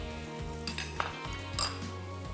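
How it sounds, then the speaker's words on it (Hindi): Masala spices fry on a high flame with a steady sizzle, while a utensil clinks and scrapes against the pan a few times, close and fairly loud, with music in the background. "अब अच्छे तरीके से थोड़े हाई फ्लेम के ऊपर हमने मसाले को भूनना है"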